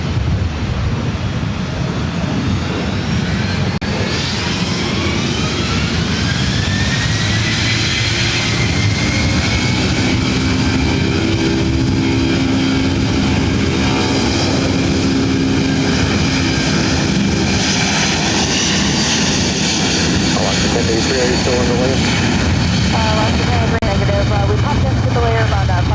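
A Delta Boeing 757-200, 27 years old, takes off from runway 24 right at LAX with a loud, sustained jet engine roar that rises and shifts in pitch, close and continuous, while someone speaks over it.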